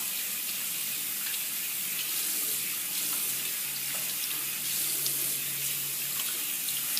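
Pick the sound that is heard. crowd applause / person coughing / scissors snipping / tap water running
tap water running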